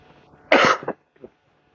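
A single harsh cough bursts out close by during a weekly religious study session, followed by a shorter, fainter cough a moment later, with a low murmur underneath before it.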